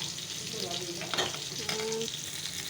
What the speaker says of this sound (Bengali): এখানে দেখো মাছটা ভাজা বসিয়ে দিয়েছে